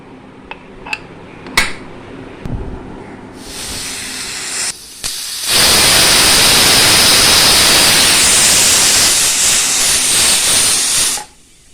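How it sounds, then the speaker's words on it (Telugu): A pressure cooker cooking moong dal on a stove gives off a loud, sustained hiss of escaping steam for several seconds, then cuts off, after a few faint clicks and rattles. "రెండు విజిల్లు వచ్చినాయండి ఆపేద్దాం స్టవ్"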